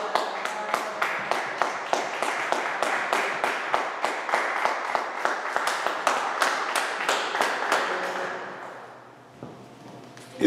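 A church congregation claps and cheers to acclaim Jesus, a dense run of sharp, rhythmic claps close by for several seconds before fading into a lull and a final burst.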